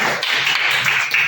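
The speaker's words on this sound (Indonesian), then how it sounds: "Berikan tepuk tangannya kepada" Applause from a class of students for a classmate, a dense steady patter of many hands clapping close by for just over a second, with no talking.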